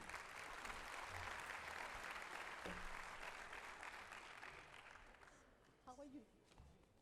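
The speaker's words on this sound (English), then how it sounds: "We can applaud him." Audience applause fills a conference hall during the opening ceremony of an oil, gas and power event, a steady wash of clapping that gradually fades, with a few voices and a brief announcement-like sound near the end.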